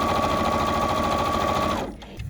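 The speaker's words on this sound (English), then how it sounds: "this one is going to eliminate the need for me to push this quick reverse button when I sew" A Bernette 37 sewing machine stitching with automatic reverse, a fast even rattling stitch run, loud and close, that stops abruptly near the end.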